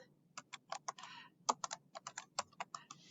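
Rapid, uneven keystrokes on a computer keyboard, about twenty crisp clicks in a little over three seconds, close and clear with no talking.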